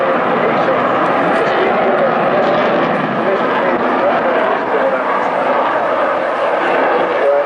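An aircraft climbs steeply on departure with a loud, steady, broadband engine roar that holds constant without breaks, close and powerful throughout.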